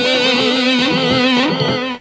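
Electric guitar through the tape echo setting of a Mooer GE100 multi-effects pedal: a sustained distorted note that wavers in pitch, with repeats smearing behind it before it cuts off abruptly near the end.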